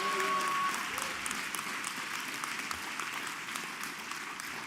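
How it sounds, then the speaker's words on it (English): Sustained applause from a commencement audience, steady dense clapping throughout with a brief trailing voice tone at the start, fairly distant and even in level. "A round of applause for Dominic Peruso"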